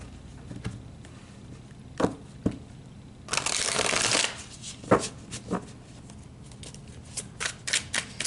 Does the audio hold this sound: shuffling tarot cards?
yes